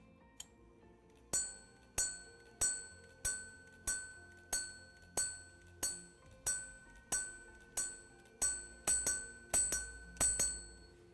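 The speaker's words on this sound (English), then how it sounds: "the quarter repeater hammers here actually hit on this gong" Quarter repeater wristwatch hammers striking a gong, a run of bright, metallic chimes at a regular pace, ending in quicker paired strikes, close and clear with no talk.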